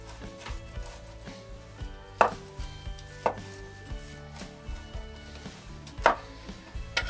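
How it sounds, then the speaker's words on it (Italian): A pizza cutter rolls through a freshly baked Apulian focaccia from Bari, giving sharp crunchy crackles and thuds against the board at irregular intervals, close and fairly quiet over a faint hum. "Adesso la tagliamo anche con un tagliapizza."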